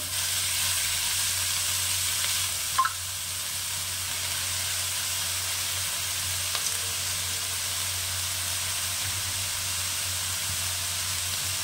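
Chopped pea greens and eggplant frying in a pan, a steady close sizzle and hiss that runs throughout, with a brief clink near the start and no talking.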